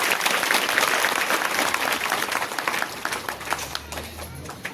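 A large audience at an outdoor public felicitation gathering in Maharashtra claps loudly and steadily, the dense applause gradually thinning toward the end with no voices on top.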